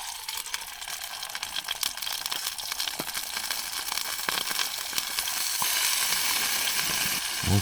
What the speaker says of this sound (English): Well, sizzling away